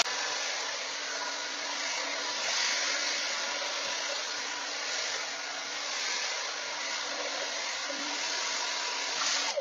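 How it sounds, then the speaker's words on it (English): A handheld hair dryer blows on its cool setting, a steady airy whoosh that holds constant from start to finish and clicks off at the very end, with no talking. "So now that my hair is dry, I'm going to set it back to the cool setting and set my hair."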